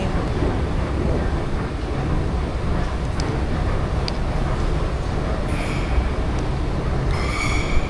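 A train approaches a station in cold weather, a loud steady rumble of rolling wheels with brief metallic squeals near the end, heard close by without talking.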